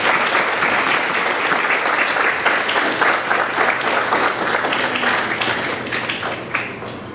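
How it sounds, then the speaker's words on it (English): Audience applause at a talk event, steady dense clapping from a crowd that holds at full strength and then tapers slightly at the end. "please let's give a round of applause"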